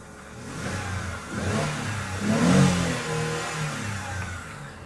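A 2010 Mercedes-Benz C230 Avantgarde's 2.5-litre V6 engine idles and then revs up twice, swelling to a throaty peak before settling back down, heard close with no talking.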